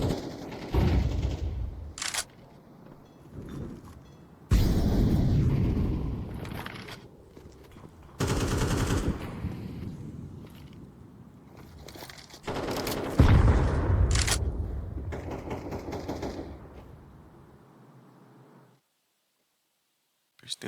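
Rapid bursts of gunfire from a Counter-Strike 2 match at the PGL Major Copenhagen, clustered in loud volleys separated by brief gaps, mixed with clicks and footsteps, all under a commentator's voice.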